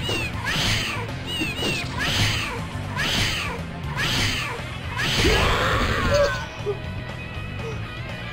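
Uriko, the cat fighter in the video game Bloody Roar 2, yowls in a run of five sharp, rising meows about a second apart, then a longer screeching caterwaul amid fight impacts and game music.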